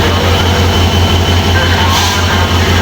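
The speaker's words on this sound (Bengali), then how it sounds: "আরেকটা ট্রেন জয়দেবপুর থেকে এখন ছেড়ে যাবে" Train at Joydebpur railway station, a Bangladeshi service bound for Rajshahi, rumbling steadily with a low engine drone and a faint squeal, continuous and fairly loud throughout.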